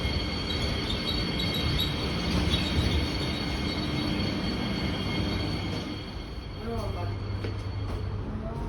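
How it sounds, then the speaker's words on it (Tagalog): A train rolling past near a campsite, a steady rumbling wash of wheels on rail that eases slightly near the end, with people talking faintly underneath. "Train."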